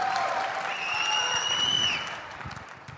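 Dense clapping fills the clip, steady and fairly loud, with a bright whistle-like tone gliding over it before the clapping tapers off.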